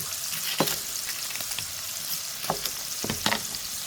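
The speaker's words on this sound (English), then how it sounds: "We're gonna throw the bacon in there. We're gonna let it color up a little bit." Big chunks of bacon sizzle steadily in a hot pan, a constant bright crackle with a few louder spits and stirring scrapes, close and alone with no voices.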